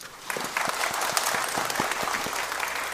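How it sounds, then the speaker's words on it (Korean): A church congregation at a Sunday service claps along to the choir's lively hymn, sharp rhythmic beats standing out over a steady bed of scattered clapping. "우리 성가대로에서 박수 한번 합시다"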